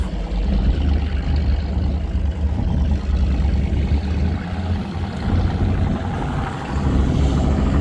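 Loud offshore powerboat engines roar together at the start of a race on the Solent in 2024, a dense, steady drone that swells near the end, with no voices.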